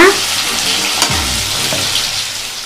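Pumpkin pieces sautéing in ghee in a pan for halwa, a loud close sizzle with a spoon scraping and stirring through it, one sharper clack near the middle, no voices.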